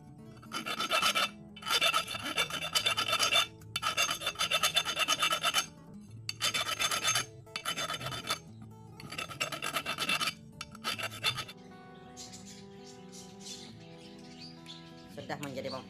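A hand file scrapes metal burrs and leftover iron shavings from drilled holes in an air rifle base, a cheap bullpup conversion. Rasping comes in steady, rhythmic strokes in several close, loud bursts, followed by quieter scraping and light scratches.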